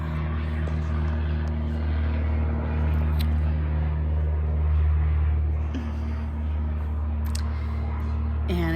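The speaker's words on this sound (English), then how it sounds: "I'm gonna wait for this plane to go by." A propeller airplane flies overhead, a loud steady droning hum that swells and fades slightly as it passes, heard alone without talk.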